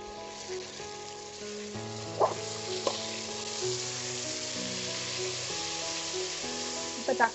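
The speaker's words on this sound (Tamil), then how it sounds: "இப்போ தக்காளியும் சேர்த்து நல்லா வதக்கிக்கணும்" Tomatoes sautéing in a pan of oil for chicken biryani, a continuous sizzle with occasional sharp spatters and stirring, set under soft background music.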